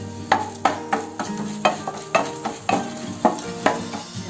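Whole coriander seeds and asafoetida powder being stirred in a frying pan for a potato samosa filling, with about a dozen regular scraping strokes of a spoon against the pan over a low, steady sizzle.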